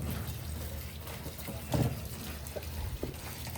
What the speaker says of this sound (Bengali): খুব সুন্দর করে ধুয়ে নিচ্ছিলেন আমার মা